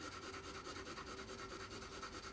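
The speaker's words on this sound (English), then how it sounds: "we're just going to put down a little bit of graphite down here" Pencil graphite laid down on paper gives a faint, steady, close-up scratchy rubbing with a soft even back-and-forth texture and no voices.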